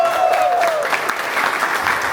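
A crowd at a Nürburgring track-walk event gives Andy a round of applause, with steady, dense clapping from many hands held at an even level for a couple of seconds.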